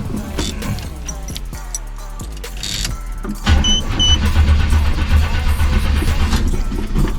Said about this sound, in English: So let's start this bad boy up right now and bring it outside. Okay, let's give it a few pumps on the old gas there.